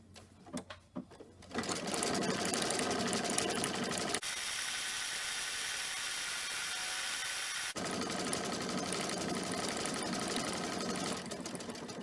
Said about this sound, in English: I'm going to sew this side.